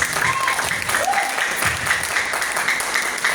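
An audience at a seminar on riba-free finance gives a short, even round of applause, a diffuse wash of many hands clapping at moderate volume.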